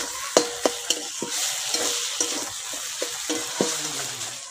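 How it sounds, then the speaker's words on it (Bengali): A spoon steadily stirs cabbage curry in a hot pan with a little water added, making rhythmic scraping taps over a continuous sizzle, close and clear with no talking. "এবার নেড়ে চেড়ে নামিয়ে নেব"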